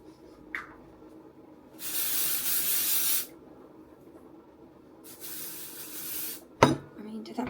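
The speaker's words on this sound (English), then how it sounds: "do we dry shampoo or hairspray? Let's do dry shampoo." Dry shampoo sprayed onto hair from an aerosol can in two steady bursts, each lasting over a second, close and fairly loud, with a soft click near the start and a clatter near the end.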